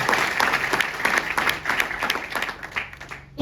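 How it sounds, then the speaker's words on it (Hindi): An audience claps loudly and steadily, a dense wash of applause from many hands that holds for a few seconds before fading at the end. "ये ताली लगानी है ना, तो एमपी वाली ताली लगाओ जोर शोर से"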